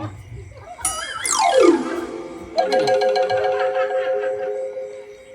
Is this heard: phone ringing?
yes